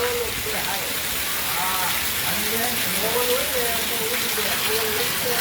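Heavy rain driven by wind pours down as a steady, dense hiss that fills the whole stretch at an even loudness, with faint voices underneath.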